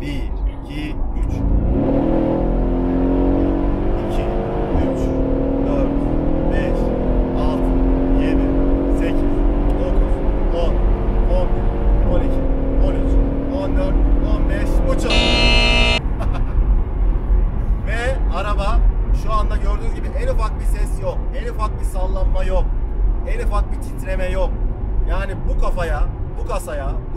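A Brabus-tuned Mercedes-AMG G63 SUV engine revs hard from inside the vehicle, its pitch climbing through the gears with brief shift breaks during a 100–200 km/h acceleration run, loud and continuous throughout.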